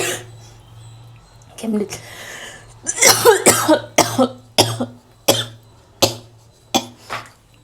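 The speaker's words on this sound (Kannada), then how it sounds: "ಕೆಮ್ಮು ನಿಲ್ತಾನೆ ಇಲ್ಲ" A person coughs hard in a fit of about eight sharp, close bursts in quick succession, following a few seconds of quieter talk and throat noises.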